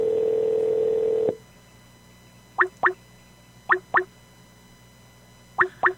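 On a radio call-in show, a steady telephone tone cuts off, followed by three separate pairs of short electronic beeps spaced apart in quiet.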